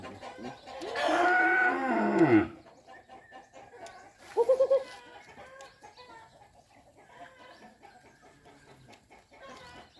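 Chickens cluck and squawk nearby in a loud burst, then give a short run of quick clucks, with softer farmyard clucking continuing faintly afterward.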